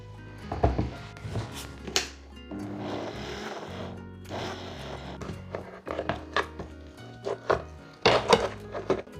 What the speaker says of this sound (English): and now we blend it all together